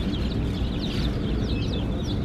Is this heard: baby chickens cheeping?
yes